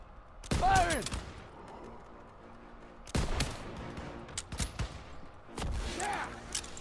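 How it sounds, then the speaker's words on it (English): Gunfire in a WW2 video game comes as three sharp, loud bursts spaced a few seconds apart, with quieter battle ambience and faint radio-style voices between them. "Firing."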